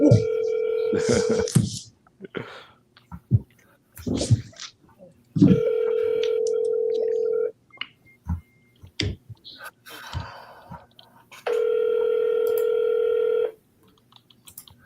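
A phone call being placed, with bursts of keypad dialing tones and three long steady ringback tones, quiet voices and mouth noises between them.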